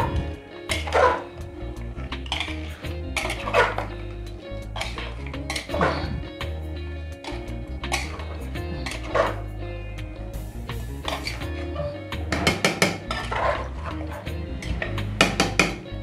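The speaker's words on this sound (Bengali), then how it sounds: "মটনটা একটু নেড়ে দিচ্ছি ভালো করে।" Mutton kosha stirred in a cooking pot, with repeated metallic scrapes and clanks of a spoon against the pot at an uneven rhythm over a low steady hum.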